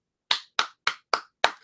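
Five sharp hand claps in a steady, evenly spaced rhythm, each crisp and close with a quick decay, and no voices in between.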